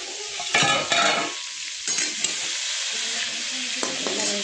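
Fresh farm brinjal fries in oil with a steady crackling sizzle, broken by a few clattering scrapes of a spoon against the pan, close and clear with no talk.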